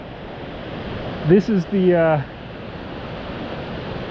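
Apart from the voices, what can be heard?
Beaver Brook rushing after heavy overnight rain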